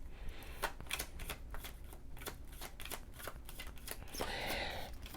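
Tarot cards shuffled in quick, repeated riffling bursts, crisp and close, over a soft steady background hiss with no talking.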